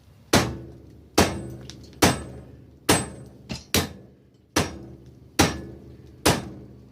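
A rubber mallet strikes an ATV axle end, knocking it out of the wheel hub to save the threads: eight sharp, loud whacks at a steady rhythm with a quicker double hit midway, each ringing briefly.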